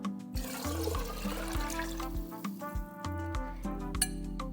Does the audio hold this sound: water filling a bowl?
yes